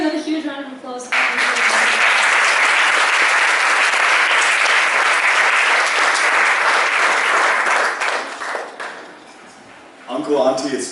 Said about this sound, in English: Can we have another huge round of applause for